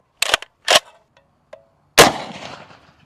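Shots from a .308 Gold SCAR rifle fired into a block of Lego plates: two sharp close cracks, a faint tick, then a heavier blast with a lingering decaying tail, no talk.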